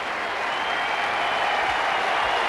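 Warm, sustained applause from the large Melbourne Cricket Ground crowd during an India versus Pakistan one-day final, a dense, even roar of clapping filling the whole stretch.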